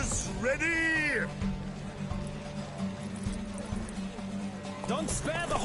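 Horses in a race in the video game Witcher 3, with hooves clip-clopping at a run and a loud whinny near the start and again at the end, all under steady background music.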